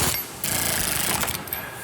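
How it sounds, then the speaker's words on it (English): A power tool running down wheel lug nuts on a 1970 Road Runner convertible whirs and rattles loudly in short, buzzing bursts, close by, with a brief break before the second run. "we can use our power tool to run them down"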